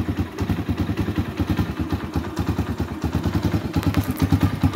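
A Skygo Earl 150 motorcycle engine, just fired up with the electric starter, idles steadily nearby with an even, rapid thumping pulse and a light mechanical clatter throughout.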